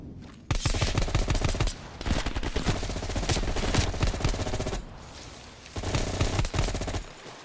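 Heavy automatic gunfire from Call of Duty: Cold War comes in long sustained bursts of rapid shots. It is loud and close and pauses briefly twice before firing resumes.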